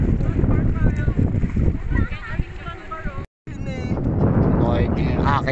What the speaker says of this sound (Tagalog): Nalakas na ng hangin dito sa loob.